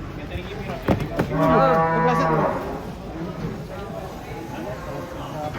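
A single long, deep moo from a large humped cow nearby, with people talking around it and faint outdoor background.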